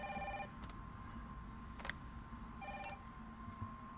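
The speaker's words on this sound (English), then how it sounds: "And the phone is ringing." A telephone rings in Resident Evil 3 Remake, with a faint electronic bell tone sounding in short bursts over a low background hum.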